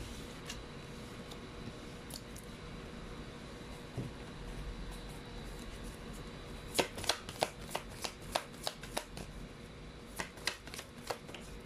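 Tarot cards are shuffled quietly in a run of crisp riffling bursts, following a stretch of soft room noise with no talking.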